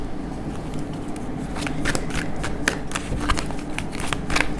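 Tarot cards shuffled continuously for several seconds, a steady papery riffling with crisp card snaps standing out, moderately close, with a low hum underneath and no voices.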